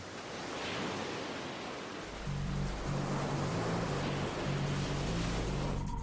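Ocean waves and surf wash in as a broad, rushing roar, with a low rumbling drone and a faint pulsing tone joining partway through.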